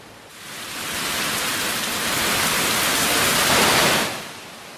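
A steady downpour falls in Kodaikanal. The rain makes a loud, dense hiss that swells in within the first second, holds for several seconds, then fades off quickly.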